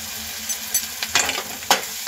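Spiced masala-pav filling with cumin powder, goda masala, pav bhaji masala and plenty of coriander leaves being stirred in a pan, a steady sizzle broken by a few scraping stirs, close and clear.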